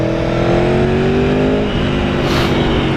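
Aprilia Tuono V4 1100 Factory naked motorcycle with a V4 engine, roaring loudly and steadily up close, its revving pitch climbing smoothly through the whole stretch without pause.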